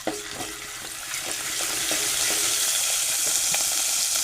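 Garlic paste frying in a pan for a brinjal, potato and drumstick curry, a dense sizzle that swells and holds loud while a spoon stirs through it in light scraping strokes.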